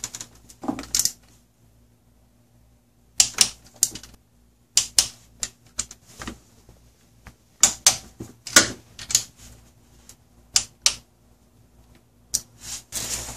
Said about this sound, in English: Again, we'll tighten these down to 12 foot-pounds in this sequence.